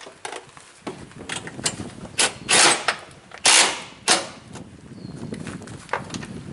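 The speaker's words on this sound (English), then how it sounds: "get your 13 millimeter and tighten the front ones with the D-rings" A 13 millimeter wrench tightening bolts on a rear mount packout plate with D-ring brackets, giving a series of sharp metallic clicks and ratcheting bursts at an uneven pace, close and fairly loud.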